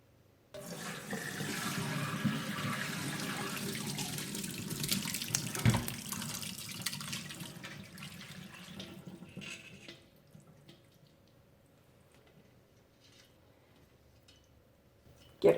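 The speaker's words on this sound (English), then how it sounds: "Pour the curds into a fine mesh colander." Cheese curds and whey pour from a pot into a fine mesh colander in a steady, splashing rush of liquid that tapers to a trickle and faint drips.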